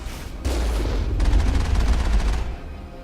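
An automated turret fires in the video game Mass Effect on Novéria. A loud, rapid stream of shots starts abruptly, holds steady for about two seconds, then cuts off, over a low rumbling background.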